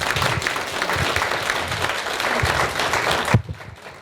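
Lecture-hall audience clapping at the close of a colloquium talk, a steady moderate wash of many hands that tapers off sharply near the end.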